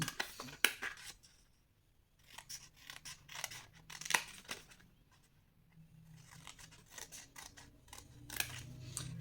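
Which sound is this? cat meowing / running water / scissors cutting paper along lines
scissors cutting paper along lines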